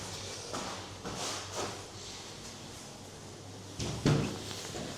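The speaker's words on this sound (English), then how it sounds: "Oh, these doors open nicely." Doors swing open close by with soft knocks and a louder thud near the end, set against faint low background hum and no talk.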